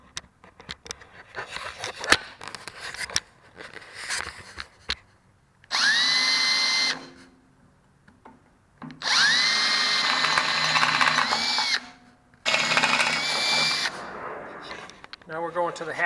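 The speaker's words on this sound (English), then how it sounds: "We'll drill 2 more holes here." Power drill fitted with brand-new bits boring holes, three sustained loud whining bursts of a few seconds each, separated by pauses with clicks and handling noise; talking is heard in the gaps.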